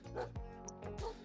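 A video game dog barks and yips a few times in quick succession, close and clear, with a brief high whimper between barks.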